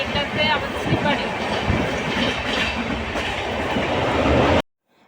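A sleeper-class train running from Haridwar toward Mathura fills the space with a loud, continuous rumble and rhythmic rail clatter heard from inside the carriage, then cuts off abruptly just before the end.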